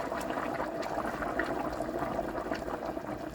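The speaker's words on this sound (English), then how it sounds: "I'm going to pour some water in now." Hot boiling water poured over browned stewing beef in a pot for curry, giving a steady, continuous splashing and gurgling pour that stays even in level for the whole stretch, with no talking.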